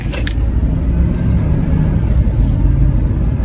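A car with a sunroof pulling out of a Copart auction lot, a low steady engine rumble heard from inside the cabin, droning evenly without strong revving.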